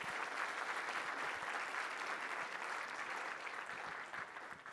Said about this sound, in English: why don't we give one more round of applause for a great talk